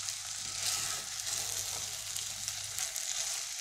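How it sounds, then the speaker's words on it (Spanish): Rice toasting in chicken-flavoured oil makes a steady close sizzle with a low hum underneath, even and moderately quiet throughout, with no talking. "Y lo que vamos a hacer es sellar un poco el arroz"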